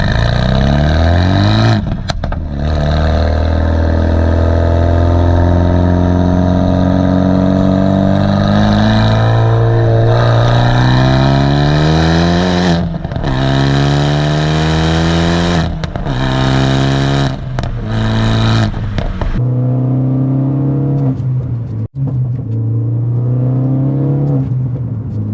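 A Renault Megane 3 RS Red Bull edition engine drones loud and close from inside the cabin while driving, its pitch climbing through gears with brief dips between shifts and a steady resonant hum, no talk over it.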